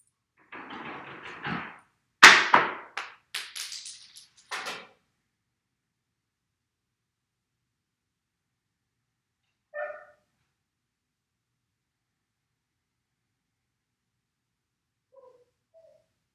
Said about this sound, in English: you might be hearing some background noise of my dog who just threw her bone down the stairs